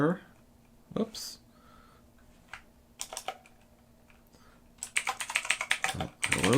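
Keys clack on a keyboard connected to a Bigme B1051C tablet, a few isolated taps early on, then a quick run of rapid typing near the end, close and crisp, with a voice speaking in between.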